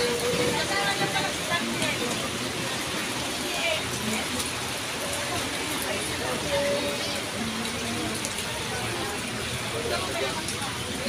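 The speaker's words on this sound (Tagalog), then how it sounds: "nabutan po tayo ng ulan" Steady rain pours over an outdoor street market in Divisoria, Manila, a dense, even hiss of drops that runs unbroken beneath intermittent talk from people nearby.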